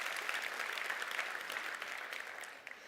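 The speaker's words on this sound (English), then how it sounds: "should we just have a round of applause for Sarah and also Dion, the signers" A conference audience at an NHS expo in Manchester applauds two sign language interpreters, steady close clapping for a few seconds that thins out at the end.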